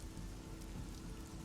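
Steady rain falls just outside a cave, a continuous soft hiss of drops on surfaces with no voices, held at an even, moderate level throughout.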